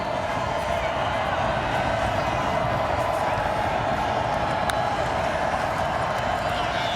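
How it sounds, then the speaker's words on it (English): Roaring crowd noise at a college football playoff quarterfinal between Villanova and Tarleton State in Stephenville, a dense, steady stadium din with scattered claps, heard continuously without a break. "Listen to this crowd here in Stephenville."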